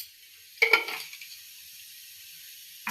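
Mustard seeds and urad dal crackling in hot oil in a pan: a brief cluster of sharp popping spatters, then quiet sizzle before another burst at the end.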